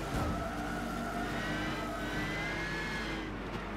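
Classic Chargers and Challengers racing at Silverstone in Gran Turismo 6, a steady, fairly distant roar of V8 engines holding high revs throughout, with no talking.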